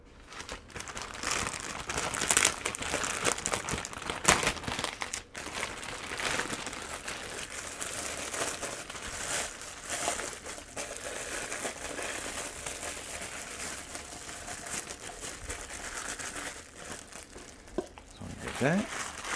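Comfrey plastic cups and dome lids being set out for bubble tea, giving a steady stream of close crinkling and crackling plastic handling with a few sharper knocks, under faint background talk.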